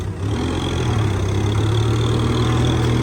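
A Kubota MU5702 tractor engine idles steadily at close range, a continuous low rumble with a strong low hum and no break for about three seconds, before ploughing on a sloped field.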